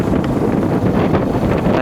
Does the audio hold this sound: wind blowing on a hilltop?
yes